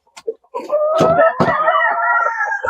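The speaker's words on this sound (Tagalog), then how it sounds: "So nandito tayo sa area ng mga manok." Chickens cluck and squawk nearby, a rooster-like drawn-out call rising over a couple of sharp clucks, loud and close.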